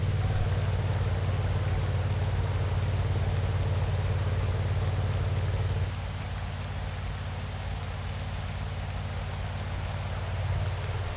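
Rain during a rainy mountain stage in the video game Pro Cycling Manager 2024: a steady, even wash of rainfall with a low rumble beneath it, running throughout and dipping slightly partway through.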